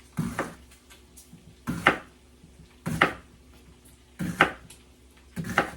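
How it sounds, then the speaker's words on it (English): A knife slices through an onion on a cutting board, five evenly spaced crisp cuts each ending in a knock on the board, close and fairly loud. "We're just going to slice this."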